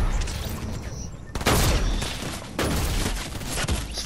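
Bursts of gunfire in Fortnite, two loud heavy volleys in quick succession amid game noise, close and sharp with a rumbling tail.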